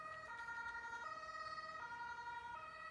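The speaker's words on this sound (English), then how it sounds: "Suddenly, you hear the sirens of an ambulance and police cars." Ambulance and police car sirens wail together in long, steady, alternating tones at night. They sound fairly distant and faint, with a low traffic rumble underneath.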